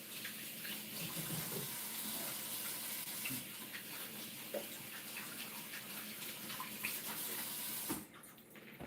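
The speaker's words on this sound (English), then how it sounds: "I gotta rinse my fingers." A tap runs steadily into a sink as fingers are rinsed under it, a close, continuous splashing flow that cuts off sharply near the end.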